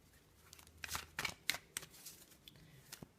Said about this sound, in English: So let's lay out another 5 cards